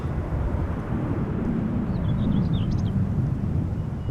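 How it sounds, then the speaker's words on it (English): A KLM Boeing 737-700 narrow-body airliner at Amsterdam Schiphol gives a steady low engine roar with rushing wind, loud and continuous throughout, with faint high chirps near the middle. "First up is going to be a KLM 737-700"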